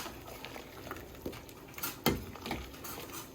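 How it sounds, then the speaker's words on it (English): A spoon scrapes and clinks against a pot of turkey vegetable soup with broth, a few soft stirring taps and one sharper knock, fairly quiet and with no talking. "I'm going to give that a stir."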